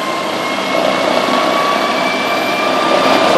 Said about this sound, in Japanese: お、エンジンの音が高くなりました。